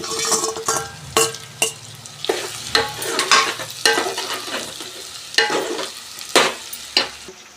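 Pieces of fried mutton lung stirred in hot oil for a lung curry, a close sizzle under rhythmic scraping and metallic clinks of a spoon against the pan, roughly one stroke per second, with no voices.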